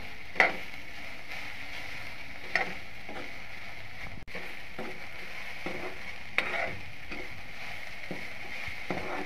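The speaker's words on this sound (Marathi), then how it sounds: "आता भेंडी भाजली, आता ठेसा आणि मीठ टाकते आणि परतून घेते।" Okra sautéed in a pan with thecha and salt: a soft, even frying hiss with occasional spoon clicks and scrapes against the pan, fairly quiet, no talking.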